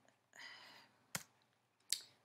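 Two sharp mouse clicks, spaced apart, while setting up a Google Form, close and crisp in a quiet room, preceded by a soft breathy rustle.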